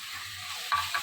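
Grated ginger and garlic fry in a pan for paneer burji, giving a steady close hiss of sizzling oil. Near the end, two brief louder bursts come from stirring.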